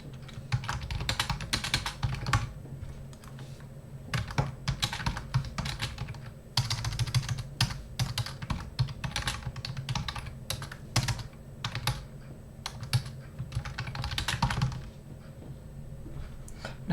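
An email subject line typed on a computer keyboard, with rapid close key clicks coming in bursts and brief pauses between them, running steadily for many seconds with no talking.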